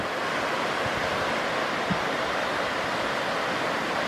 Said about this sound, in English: Okay, I found the waterfalls.